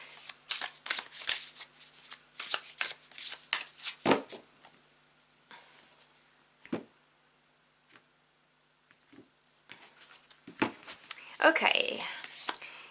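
Tarot cards are shuffled by hand in quick bursts of crisp riffling and flapping, pausing briefly between rounds, with a voice speaking quietly over some of the shuffling.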